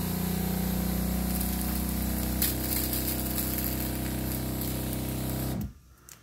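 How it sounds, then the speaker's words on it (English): A battery-powered sprayer's motor and pump hum steadily and loudly for several seconds, then cut off abruptly near the end, leaving near silence. "the battery did turn on as we had the sprayer going"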